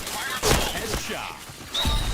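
A flashbang grenade detonates in a video game: a loud, sharp burst, then a fainter thud and a thin, high ringing tone that rises near the end, with no voices.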